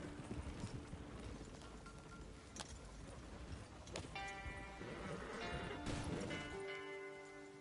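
Horse hooves clip-clop steadily on a hard surface, with a rider urging the animal along; loud, busy background with crashing clatter and a sustained tone near the end.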